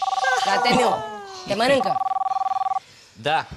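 A mobile phone rings in a repeating electronic trill, with people talking before and over the ringtone.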